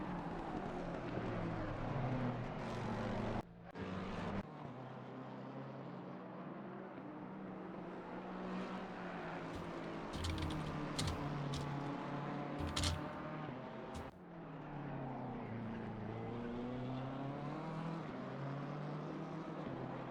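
A Lexus race car, number 599, in a racing video game endurance event at Laguna Seca, with a continuous engine drone that rises and falls through gear shifts and brief drops in pitch as it brakes for corners.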